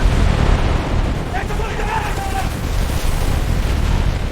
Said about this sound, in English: Explosions light up the sky again